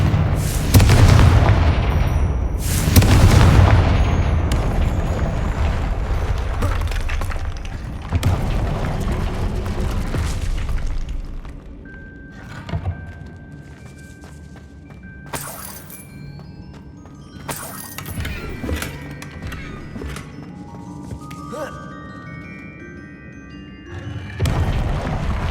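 Confringo fire spells explode in the Hogwarts Legacy video game, a series of loud booming blasts with crackling tails, spaced irregularly and interspersed with brief chiming magical effects.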